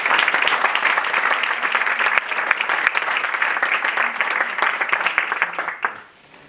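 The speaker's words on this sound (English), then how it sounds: "Have an applause for that" Audience applause at a book launch event, sustained clapping from a sizable crowd with individual sharp claps standing out, holding steady for several seconds before tapering off quickly at the end.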